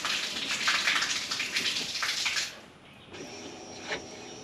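A bilge pump on a 2015 Ranger Z119C bass boat pushes water out in a steady gushing splash, close and fairly loud, then cuts to a quieter trickle.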